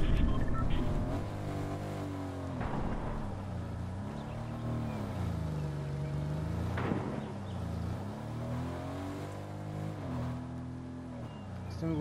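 A car engine driving in the Fortnite video game, a continuous rumbling drone that rises and falls in pitch as it accelerates and eases off, with voice chat speaking over it.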